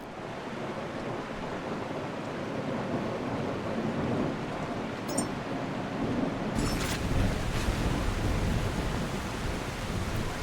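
Steady heavy rain hisses in the video game The Last Caretaker, with a brief crackle midway and a louder rumbling burst of thunder near the end, no voices.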